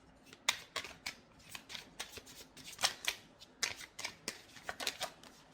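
A tarot deck shuffled by hand, the cards riffling and slapping in quick repeated bursts, close and fairly quiet, with no talking.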